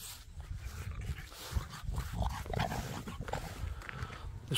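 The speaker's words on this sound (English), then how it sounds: "This bloody dog always wants to play when I'm making videos." Playful dog wanting a ball outdoors in the sun, with panting, snuffling and small whimpering noises running continuously at close range for several seconds.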